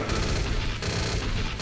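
Gunfire in the Metal Gear Solid video game: a dense, loud burst of shots filling the short moment, with a brief crash-like break midway, no talking.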